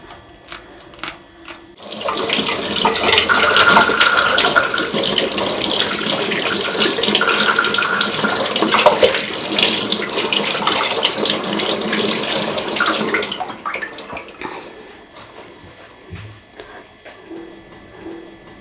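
Kitchen tap water gushing steadily while kanangeluthi mackerel is rinsed under it, a loud continuous splash lasting over ten seconds before the flow stops, with faint clinks before and after.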